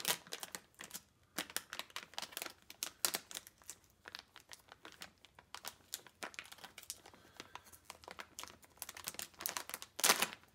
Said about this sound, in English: Yeah, totally ripped it open. So much for the resealable pouch.